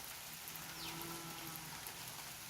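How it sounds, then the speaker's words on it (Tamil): Steady rain falls, a soft, even wash of patter on surfaces throughout, fairly faint with no voices. "இன்னைக்கு மழையாக இருக்குது"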